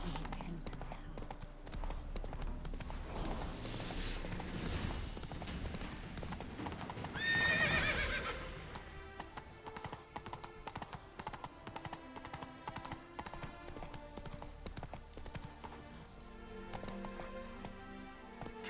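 Roach the horse trots in The Witcher 3 with steady clip-clop hoofbeats, joined by a brief whinny partway through, over continuous game music and ambience.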